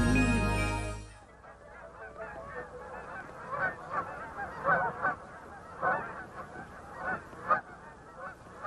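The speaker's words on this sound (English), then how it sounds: "I can see all kinds of ducks and geese" Geese on Chesapeake Bay honk over and over in irregular, overlapping calls at a moderate distance. A brief loud low sound opens the stretch before the honking starts.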